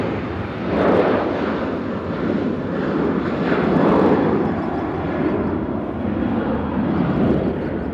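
A United Airlines airliner at Nashville International Airport roars steadily with a broad jet engine rush that swells and fades as it passes, heard from outside without talk.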